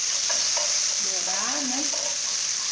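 Garlic frying in a pan for mocotó broth gives a steady, close sizzle of hot oil with a faint clink or scrape, and no voices over it.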